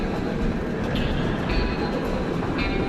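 The twin trains of a video-game recreation of the Gemini roller coaster at Cedar Point start up with a steady, loud rolling rumble and a few faint metallic clicks throughout.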